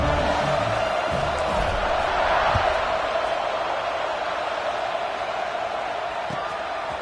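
A football stadium crowd roars in a sustained, loud wash of cheering and shouting just before a kickoff late in a tied fourth quarter.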